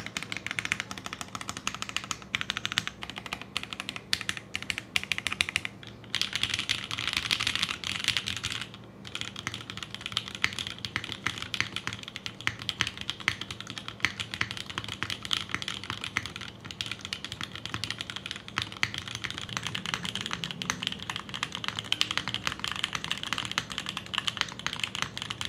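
Typing on a Void65 mechanical keyboard by Anorexus, a close, steady stream of rapid key clacks that runs unbroken for about twenty-five seconds with no speech.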